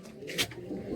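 A pigeon in a home loft gives a single brief coo, a short low call with a brighter flutter near its middle, over faint background noise.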